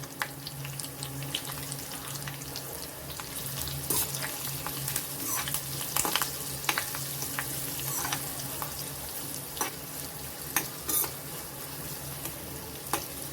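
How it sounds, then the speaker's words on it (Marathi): Asafoetida crackles in hot oil for a tadka on green moong dhokla, a close, continuous sizzle dotted with sharp spattering pops throughout. "आपल्याला तडका करायचा आहे आता आपण हिंग पण घालत आहोत"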